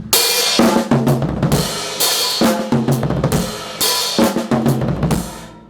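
A drum kit plays a loud, busy groove with triplet fills, the cymbal crashes and strong kick and snare hits repeating in bar-long cycles, close and dry with no talking.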